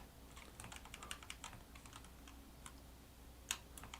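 Typing on a computer keyboard, a quiet run of rapid light keystroke clicks with uneven rhythm and brief pauses, one sharper key tap standing out near the end, no talking.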